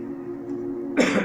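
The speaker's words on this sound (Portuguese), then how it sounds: "estou tossindo" A single short cough or throat clear bursts out near the end, following a steady low hum.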